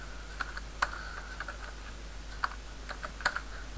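Code being typed on a computer keyboard, light irregular key clicks at close range over a low steady background hum, with no speech.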